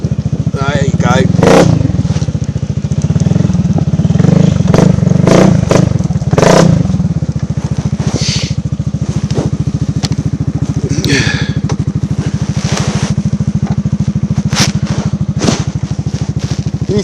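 A motorcycle with a loud exhaust missing a proper baffle rides on rough ground, its engine revving and dropping in a harsh, crackling drone with clattering over it throughout, close and continuous.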